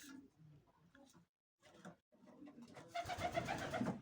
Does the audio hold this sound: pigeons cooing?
yes